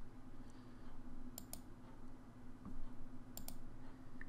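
Computer mouse clicking while technical indicators are added to a trading chart, two quick double clicks spaced apart, close and quiet over a low steady hum.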